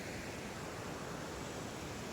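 Rushing water of Kalu Waterfall in the Malshej Ghat, a steady, loud, dense roar of falling water close by, continuous and unbroken with no voices.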